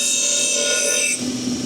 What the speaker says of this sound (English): I'm kind of sanding it down from there